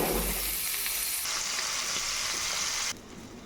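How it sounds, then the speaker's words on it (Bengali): Bata fish fries in a small amount of hot oil, a close, continuous crackling sizzle that drops to a quieter hiss near the end. "তেল গরম হয়ে গেছে, মাছগুলো ভেজে নিচ্ছি। বাটা মাছ একটু কম তেলে ভাজতে হয়।"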